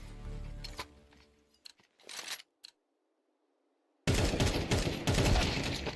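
Gunfire in an esports shooter video game match during a league session: sharp shot bursts crack out at first, then a stretch of near silence, then a loud, dense barrage of rapid fire.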